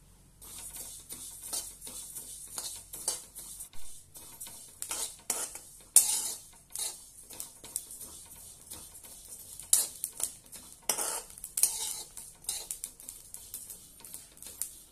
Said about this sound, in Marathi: एक वाटी बडीशोप, ते पण छानपैकी भाजून घेऊया।